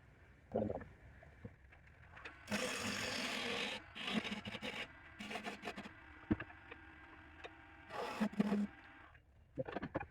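A wooden bowl spins on a lathe while a gouge rounds and hollows it, giving bursts of loud scraping and shaving cuts broken by quieter pauses, set against the low hum of the machine.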